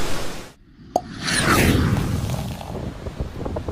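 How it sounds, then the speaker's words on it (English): Wind and surf on Sunset Beach from the outer bands of Hurricane Irma, with heavy gusting wind buffeting the microphone and a constant roaring wash of waves after a brief lull. "The surf was definitely up. Now, this is just from the outer bands of Irma."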